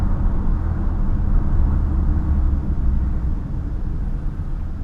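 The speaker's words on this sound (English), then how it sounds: "You hear the roar of the engine, guys." Mercedes-Benz GLB 161 hp petrol hybrid on a drive, heard from inside as a steady, low engine drone and road rumble, fairly loud and even throughout, easing slightly toward the end, with no talking.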